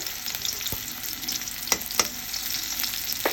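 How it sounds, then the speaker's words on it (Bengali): Onions with a little salt frying in hot oil in a kadai for a meat korma, a steady close sizzle broken by a few sharp clacks of stirring. "এখন হচ্ছে পেঁয়াজ দিয়ে দিচ্ছে, হচ্ছে একটু লবণ দিচ্ছে"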